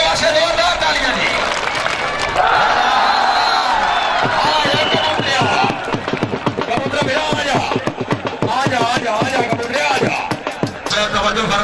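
A crowd at a Kot Shakir versus Jhang kabaddi match breaks into dense, sustained applause mixed with cheering, under a steady announcer's voice over a loudspeaker.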